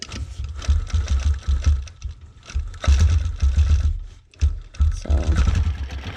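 A quilting machine stitches densely across a client quilt in fast bursts of close motor whirring, stopping and starting several times.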